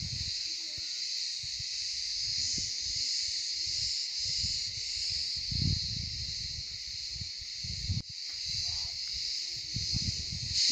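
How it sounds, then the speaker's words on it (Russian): Cicadas buzz steadily around a monastery set among boulders on the island of Ikaria, a continuous high shimmering drone with faint rustles and low wind noise underneath in an otherwise quiet wild setting. "Вокруг монастыря дикая, спокойная тишина и звон цикад. Слышите?"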